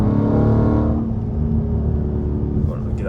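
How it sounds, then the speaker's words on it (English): A Dodge Charger Scat Pack with a quarter intake revs loudly, then the engine note drops and settles into a rumbling idle while someone talks over it. "Bro, with no music, y'all can hear the quarter intake."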